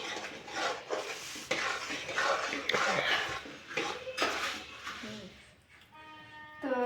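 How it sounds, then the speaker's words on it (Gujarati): Puffed rice being stirred into hot jaggery syrup in a pot for laddoos, a steady scraping and rustling stir with clinks of the spoon against metal, running close under faint background voices and occasional higher tonal chirps near the end. "આપણે એમાં મમરા નાખી દેવી છે સરસ મજાના અને હલાવી નાખીએ"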